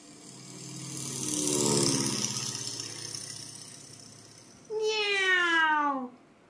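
A cat meows in a single clear, drawn-out cry near the end, following a quieter stretch of low rumbling engine-like noise.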